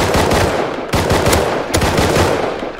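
Loud automatic gunfire in the Rust video game, with rapid rattling bursts broken by brief pauses, close and dominant with no talking.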